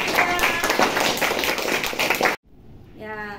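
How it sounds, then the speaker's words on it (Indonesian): Classroom applause for a student group after their presentation, a burst of scattered hand claps from a small group at close range that stops abruptly, followed by faint voices. "beri tepuk tangan kelompok 3"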